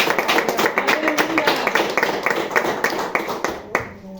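A church congregation claps for Jesus in steady rhythmic applause, many hands striking together close and loud for about four seconds before the clapping drops away at the end.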